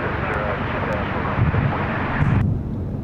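A Team Global Express freight aircraft at Sydney Airport at night makes a loud, continuous broadband jet roar that fills the clip and eases slightly near the end, with faint talk underneath.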